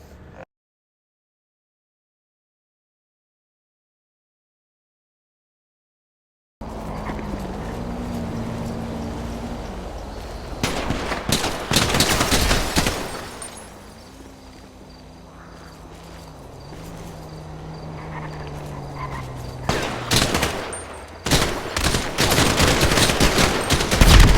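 Silence, then bursts of rapid gunfire crackle amid engine drone and rustling, with loud volleys returning in clusters toward the end, recorded on a police body camera during an officer-involved shooting.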